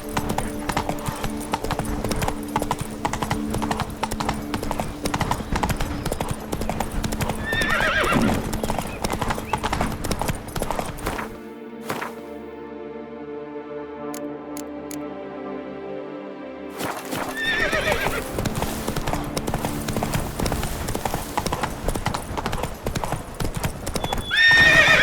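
Roach, Geralt's horse in The Witcher 3: Blood and Wine, gallops with rapid rhythmic hoofbeats and several loud whinnies, broken by a near-silent pause of about five seconds before the pounding hooves resume.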